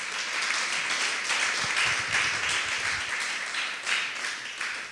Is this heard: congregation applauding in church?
yes